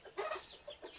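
Chickens at a rural home cluck in short, close bursts, several quick calls scattered across a brief moment against a quiet background.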